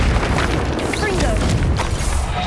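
Confringo fire-blast spell explosions in Hogwarts Legacy, a dense run of loud booming bursts and crackling impacts packed close together without pause, with a voice shouting spell names amid the clamor.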